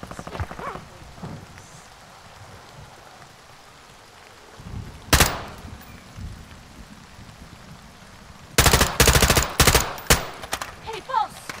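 Gunfire in Call of Duty: Modern Warfare II: a single loud shot rings out, then after a pause a rapid string of heavy bursts fires close by over a low, hissing ambient backdrop.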